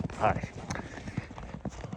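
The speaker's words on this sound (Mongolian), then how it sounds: "Хөтөг морь цамтуулж байгаа юм байна." Hooves of a horse being led through deep snow clop at a steady walking pace, close by and moderately loud, with a person talking over the footfalls throughout.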